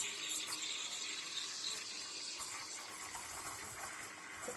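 Water flows out of a Lelit Bianca espresso machine in a steady, close rushing hiss that runs without pause, with no one talking.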